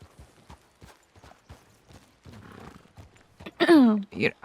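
A horse in a video game with hooves clip-clopping in an even walking rhythm, followed by a louder burst of game sound and a whinny-like call near the end.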